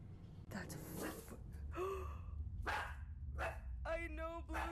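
Dogs barking outside, a few short sharp barks spread across the moment, moderately close, with breathy vocal sounds and a brief voice mixed in over a low background hum.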